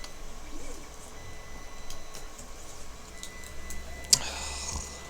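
A 3D printer running a print, with faint ticking and whirring motor movements under a low background hum, close by and fairly quiet, with one sharp click near the end.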